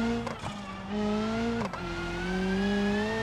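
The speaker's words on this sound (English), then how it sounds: "but slamming the brakes on." Race car braking hard in BeamNG, a car already carrying suspension damage: a loud engine note drops in pitch as the brakes bite, with short tyre-scrub bursts, then the engine climbs again.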